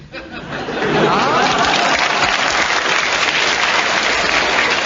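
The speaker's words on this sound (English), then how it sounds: "The audience applause convinces me that you have a correct challenge" A studio audience at a radio panel game breaks into loud, sustained applause that swells within the first second and holds steady, with scattered laughter mixed in.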